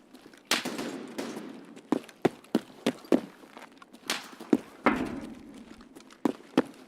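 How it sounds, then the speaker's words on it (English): Gunfire in the shooter game Escape from Tarkov, heard as a string of sharp, separate shots spread unevenly over several seconds, some louder and some more distant, with faint footstep-like thuds in between. "You did hear gunshots when there was flashes"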